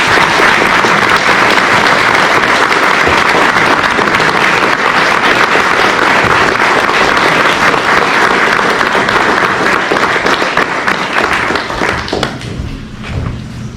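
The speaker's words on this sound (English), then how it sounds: "Could we please have a round of applause" Loud, sustained applause from a crowd at a ceremony honouring local veterans fills the whole stretch, tapering off near the end.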